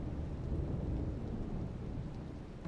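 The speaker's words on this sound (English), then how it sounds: "That's when the rain begins to fall." Steady rain with rolling thunder, a continuous dense low rumble and hiss of a thunderstorm that stays loud and unbroken throughout, with no voices.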